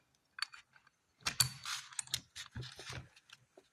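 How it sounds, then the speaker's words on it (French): Small metal clicks and light mechanical rattles as a spring and pawl are fitted into the ratchet head of a KS Tools torque wrench. The sounds come in short, close, irregular bursts with quiet gaps between them, and no one speaks. "Mise en place ressort et cliquet."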